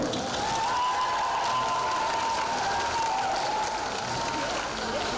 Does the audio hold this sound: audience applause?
yes